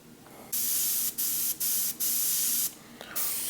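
An airbrush spraying paint hisses in several short bursts of varying length separated by brief pauses, loud and close.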